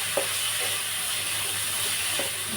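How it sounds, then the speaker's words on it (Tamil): Brinjal sautéing in hot oil with salt, a steady close sizzle and hiss running throughout, with a few soft stirring scrapes against the pan. "உப்பு போட்டு நல்லா வதக்கி விடணும். நல்லா எண்ணெயிலேயே வதங்கணும்."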